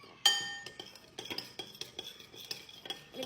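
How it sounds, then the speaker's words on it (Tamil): A spoon scraping and clinking in a pot as salt is stirred into biryani, with irregular metallic taps and scrapes, fairly soft and close, no talking. "இப்போ உப்பு போட்டுட்டு கொஞ்சமாக நாங்கள் மிக்ஸ் பண்ணுவோம்."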